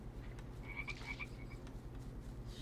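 Frogs croak in a Sims 4 forest scene, a short run of quick, rattling calls repeated a few times at moderate distance over a steady ambient background, with no talking.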